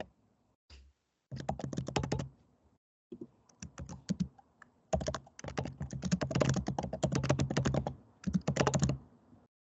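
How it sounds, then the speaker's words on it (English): Loud, rapid typing on a computer keyboard, dense bursts of hard key clicks with brief pauses between runs, close to the microphone. "It sounds like you're smashing your keyboard instead of just typing."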